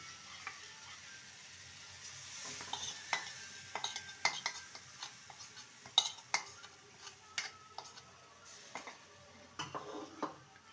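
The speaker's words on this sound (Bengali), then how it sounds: "ভালো করে নেড়ে নেব লো টু মিডিয়ামে রেখে এটা নাড়তে হবে" Shredded cabbage and gram flour batter stirred in a pan over low to medium heat, with faint sizzling under repeated scrapes and taps of a spatula against the pan, irregular and fairly quiet.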